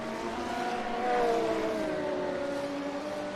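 Three Porsche GT3 race cars battling at Le Mans in a sim racing game, steady high engine whines layered together, pitches sliding down and swelling slightly midway, without talk.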